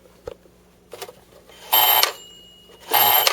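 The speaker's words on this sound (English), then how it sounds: "when you dial the phone, like this" A Remco Dialmaster toy rotary phone being dialed: small clicks followed by two loud bursts of rattling buzzer, close and alone.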